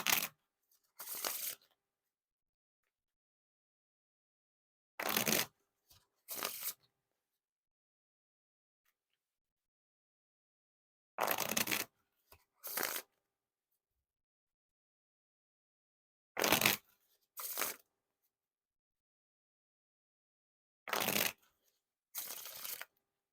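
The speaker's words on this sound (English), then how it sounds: "Now for the riffle shuffle or bridge shuffle." Fontaine Watermelon edition playing cards are riffle shuffled repeatedly, with five rounds of crisp fluttering bursts, each a quick riffle then a short bridge, separated by pauses of near-silence, close up.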